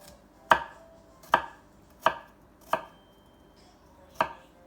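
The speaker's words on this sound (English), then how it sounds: "I have my garlic here, and the garlic I want to mince" A knife chops through a fat clove of garlic while mincing it: five crisp, close chops at an uneven pace, each with a sharp attack and quick decay, with no voices.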